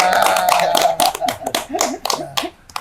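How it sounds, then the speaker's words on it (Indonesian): Small audience clapping hands in scattered, uneven bursts at an indoor talk-show style event, with voices and a little laughter mixed in over the claps. "Tepuk tangan."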